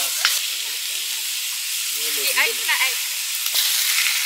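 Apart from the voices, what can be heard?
food frying in a pan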